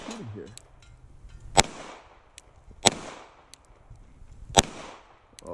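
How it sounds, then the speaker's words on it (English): Three loud, sharp gunshots ring out a second or more apart during outdoor target shooting, each followed by a short decaying tail, with quiet background between. "So let's do some shooting here."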